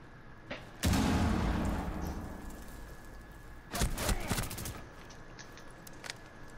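A grenade blows up in a Rainbow Six match: a loud, near blast with a long rumbling tail, a second sharp burst of explosive and gunfire noise a few seconds later, and players talking faintly underneath.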